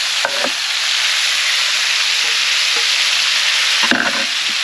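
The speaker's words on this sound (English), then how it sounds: "Now we'll take our tomatoes and onions, throw them right in there." Tomatoes and onions tossed into a pan of meat frying over an open fire: a loud, constant hiss-sizzle, with sharp spattering bursts near the start and again near the end as pieces land.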